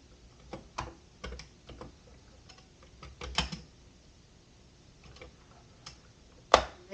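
Keys clack on a Commodore 64 keyboard as a program is typed in, irregular close taps and short bursts with pauses between them, one sharper final key strike.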